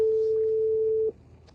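A telephone call being placed, with a single steady ringback tone held for about a second before it cuts off, followed by faint background noise.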